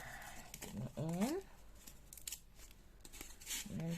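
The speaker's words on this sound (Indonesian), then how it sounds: "Nah, seperti ini kita gunting dalamnya." Scissors snip through paper for a wreath craft in a few short cuts, heard close but quietly under ongoing talk.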